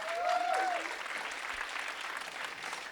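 A studio audience claps to welcome comedian Thomas Wiesel, a dense burst of applause that peaks early and then tapers slightly, with a faint tonal sound briefly at the start.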